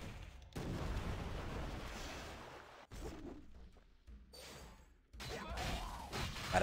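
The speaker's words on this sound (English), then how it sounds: "Ooh, bombs!" Bombs exploding in the mobile game HIT Heroes of Incredible Tales, a series of loud booming blasts with whooshing debris, separated by brief quiet gaps.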